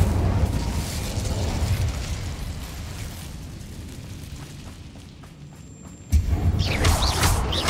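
A fire spell cast in Hogwarts Legacy roars as a sustained whooshing burst over busy game effects, easing off before a sharp louder blast flares up near the end.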